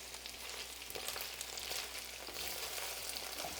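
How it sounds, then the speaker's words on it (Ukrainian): Potatoes fry in hot oil with a steady, soft crackling sizzle that holds evenly throughout, with no voices. "Картоплю вже достатньо підсмажується"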